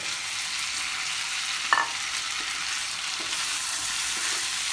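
Chicken gizzards fry uncovered in a pan with onion and tomato, giving a steady moderate sizzle with one brief clack of a utensil midway and no speech.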